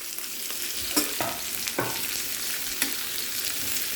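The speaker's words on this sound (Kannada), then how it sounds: "ಒಂದೆರಡು ಎಸಳು ಕರಿಬೇವು ಹಾಕ್ತಾಯಿದ್ದೀನಿ ಆಮೇಲೆ ಒಂದು ಮೂರು ಈರುಳ್ಳಿನ ಕಟ್ ಮಾಡಿದ್ದೀನಿ ಇದನ್ನೊಂದು ಸ್ವಲ್ಪ ಫ್ರೈ ಮಾಡ್ಕೊಳ್ಳೋ" Onions and curry leaves sizzle in hot oil in a pan, a constant close frying hiss broken by a few scraping stirs.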